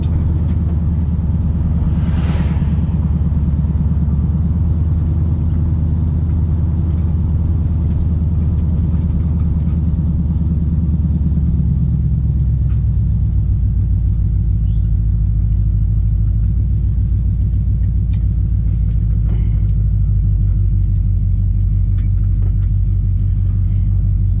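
A 1971 Chevrolet C20 pickup truck rumbles through mud, its engine a close, heavy, continuous low drone that shifts down in pitch partway through, with no talking.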